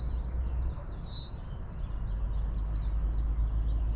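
A red-winged blackbird gives one bright, sharp call near the one-second mark, with thin high chips scattered before and after over a low steady rumble of outdoor background noise, heard near and alone.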